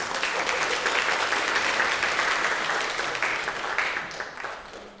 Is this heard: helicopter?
no